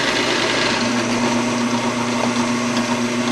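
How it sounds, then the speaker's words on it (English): A power drill boring a hole into a wood block whirs steadily at close range, a constant motor hum with a buzzing tone, running without pause through the short stretch. "I'm going to drill a hole"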